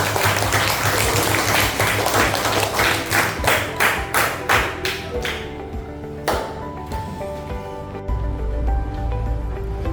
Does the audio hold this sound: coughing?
no